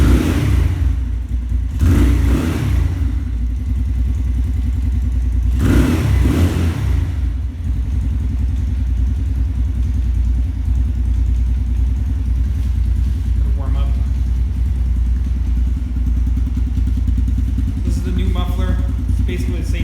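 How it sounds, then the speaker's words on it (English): A 125cc X22 motorcycle engine runs steadily close by for the whole stretch, with two loud revving bursts early on and a constant low drone under it. "We'll start the bike just so I can show you that it still runs."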